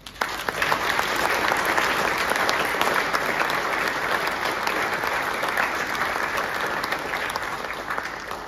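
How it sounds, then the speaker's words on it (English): A church audience at a songster weekend gives a sustained round of applause after a performance, dense and even from start to finish, loud and full, with no speech over it. "I would ask you to give a round of applause."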